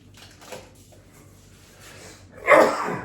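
A person sneezes once, loud and close, in a quiet indoor room near the end, after a few seconds of low background murmur.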